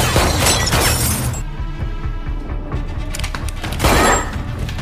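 A grenade blast shatters in a film action scene, loud bursts of breaking debris and crashing impacts at the start and again near the end, with rumbling in between.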